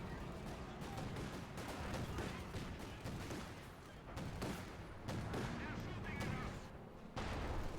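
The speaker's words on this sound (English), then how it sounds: "Grenade off." A grenade blast in a Company of Heroes 2 multiplayer match, set within a dense, continuous wash of explosions and gunfire from the game's battle, fairly faint overall.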